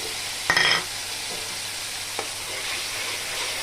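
A spice paste of salt, chili, turmeric and cumin fries and is stirred in a pan, a steady soft sizzle with a sharp scraping clink near the start and a faint tap later.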